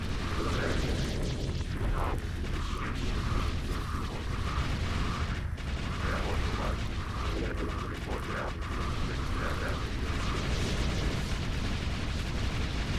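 Weapons fire and explosions in the space combat game StarSector, a steady dense wash of rumbling blasts with repeated short bursts and pops running the whole time, no talking.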